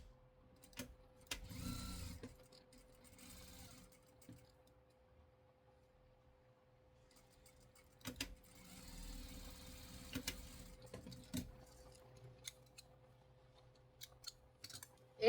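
A sewing machine stitches a fabric sheep toy in short, quiet bursts of rapid mechanical whirring, separated by pauses filled with light clicks and fabric handling.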